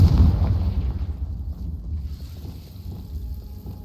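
A loud blast from the Confringo spell in Hogwarts Legacy bursts at the start, followed by a low rumbling, wind-like roar that slowly fades over several seconds.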